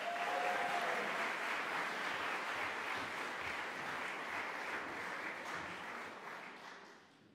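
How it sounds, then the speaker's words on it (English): An audience at a Bromsgrove School pop and jazz concert applauds the performers with dense, steady clapping that fills the room, then thins and fades toward the end. "give a warm round of applause for Bromsgrove"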